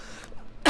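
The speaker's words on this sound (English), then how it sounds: "I've got a bit of a chest cold, so I may be coughing." A cough from someone with a chest cold, one short loud burst at the very end after a near-silent pause.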